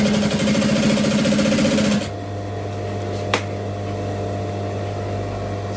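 A domestic sewing machine stitches down a leather strap with a fast, even mechanical whir. It runs loud for about two seconds, then cuts off, leaving a low steady hum and a single sharp click.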